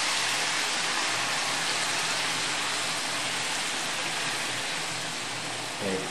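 Red wine poured into a pot for a marbled chuck pot roast, a steady continuous rush of liquid with broadband splashing hiss lasting throughout, close and fairly loud, with no talking.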